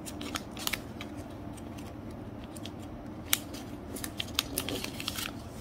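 Colored origami paper is folded and creased, giving quiet, crisp crackles and sharp little snaps at an uneven pace, with no voices.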